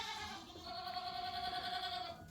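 Goats on a farm let out a drawn-out, wavering bleat, fairly quiet and close, with soft background noise around it.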